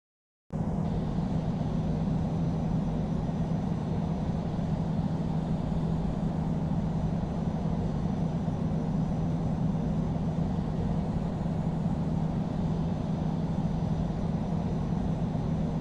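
Airliner engines in the Infinite Flight game hold a steady, loud, continuous roar at Paris Charles de Gaulle, runway 27 left, with a broad rumbling drone and no talk.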